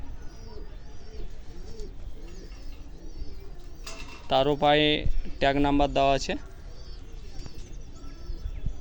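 Young pigeon chicks, a pair with numbered leg tags, coo softly in the background while someone talks loudly over them in the middle stretch.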